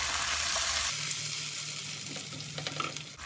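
Tomato paste from a large tomato sizzles and fries in a pan with ginger and garlic, a loud steady crackle with brief stirring noises and no talk.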